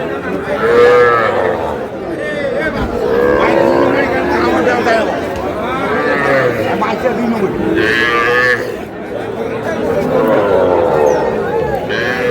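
Young bull calves moo repeatedly at a busy cattle market, several drawn-out bellows rising and falling close by amid a steady crowd babble and people talking.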